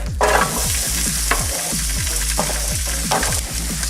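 Chopped celery, carrots and onions sizzle in an oiled pan for duck stock, a loud, constant frying hiss broken by repeated scraping strokes as the vegetables are stirred.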